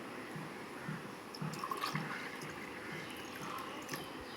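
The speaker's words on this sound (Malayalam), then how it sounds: "നമുക്ക് ഈ ഗ്ലാസ്സിലേക്ക് വെള്ളം ഒഴിക്കാം." Water pours into a glass at a soft, modest level, a short trickling fill that swells briefly in the middle before settling, with no speech.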